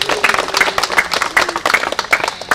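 Audience clapping at a Korean poetry and essay reading and literary award book launch, a short burst of distinct, fairly close handclaps with uneven rhythm and a little background crowd noise.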